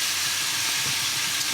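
Ground beef sizzles and hisses as it sears in a pan with a good pinch of salt, a steady, fairly soft frying hiss with faint stirring bumps underneath.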